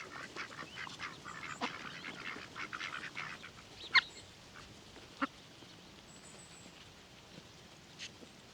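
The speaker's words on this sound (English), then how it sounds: "here come the ducks because their food bowls are empty" Ducks quack as they come up for food from empty bowls, a scattered group of nasal calls at close to middling distance, with a few louder sharp quacks standing out over softer chatter and no talking.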